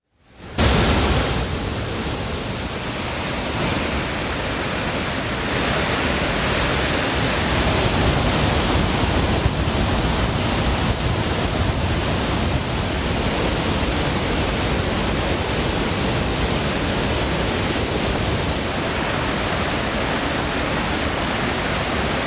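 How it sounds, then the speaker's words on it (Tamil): The flooded Thiruparappu waterfall on the Kothai river roars as a dense, steady rush of water, loud and close, unbroken from start to finish with no voices. "கோதை ஆற்றில் தண்ணீர் கரை புரண்டு ஓடுவதால் திருப்பரப்பு அருவியில் வெள்ளப்பெருக்கு ஏற்பட்டது"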